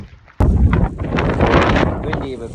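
Strong wind buffets the microphone on a high-elevation stretch of the Pacific Crest Trail, a sudden loud roar that continues in gusty waves, with a voice speaking briefly under it.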